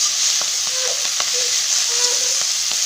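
Vegetables fry in a pan as the base for a fish curry, giving a loud, close, steady sizzle with scattered clicks and utensil taps, no voices.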